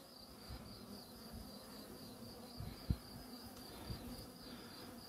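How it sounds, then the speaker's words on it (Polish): Honeybees buzz steadily around their beehives outdoors, a dense, continuous droning hum at moderate distance with a few faint knocks and no talk. "No, jestem już u moich pszczół. Pięknie pracują, jak widzicie."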